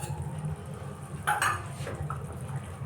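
Cashew-raisin paste is stirred into a cooked spice mix in a pan, with scraping spoon sounds and a couple of metallic clinks against the pan.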